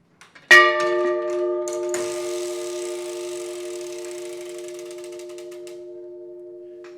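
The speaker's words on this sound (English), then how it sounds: "Should hear a hammer click, and then a gear click, and then it'll chime 1 time after the gears start up." A few soft mechanical clicks from a Seth Thomas mantel clock's hammer and gears, then a single bright chime strikes and rings on with long, slowly fading overtones; no voices.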